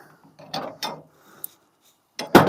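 Metal pins pulled from a woodworking tool's joints during disassembly: a few separate mechanical clicks and clacks, then a sharper rattling clatter at the end, close and fairly loud with no talk.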